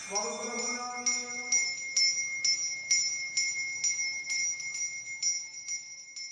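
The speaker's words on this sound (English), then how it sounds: "The use of bells during ceremonial prayers also resembles a Hindu puja." Bells ringing during ceremonial Christian prayers in India: a small high-pitched bell struck in a steady rhythm about twice a second, each ring clear and sustained, with a faint voice underneath at the start.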